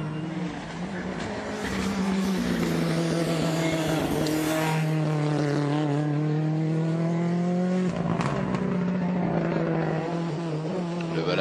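Luis Monzon's rally car on a Canary Islands Rally stage, suffering gearbox and oil temperature problems, roars past close and loud, engine pitch climbing through gears, a sharp break and shift near the end before it pulls away.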